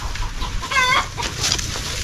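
A hen clucks in a short run of harmonic calls midway through, close by, with steady outdoor background noise throughout.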